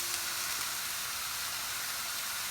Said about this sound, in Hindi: अब हम अच्छे से इसको ना इस तरह फ्राई करते जाएंगे।